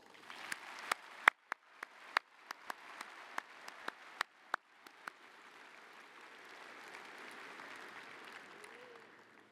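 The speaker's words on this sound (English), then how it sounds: "Please join me in giving all of them a round of applause." A graduation audience at a Staley High School commencement applauds, with sharp, distinct claps standing out over the first half before settling into a softer, sustained wash of distant clapping across a large hall.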